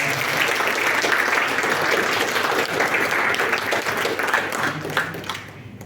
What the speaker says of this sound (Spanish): por favor, fuerte aplauso para nuestro disertante invitado